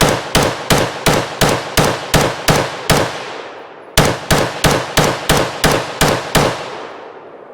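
An HK MR556A4 piston AR-15 fires at an outdoor range in two quick strings of about eight loud, closely spaced shots each, every crack trailing off in a short echo, with a brief pause between the strings and no talk.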